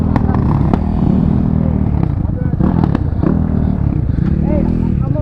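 A two-stroke quad engine running nearby, a loud continuous buzzing drone with rattling clatter, while people talk and shout over it.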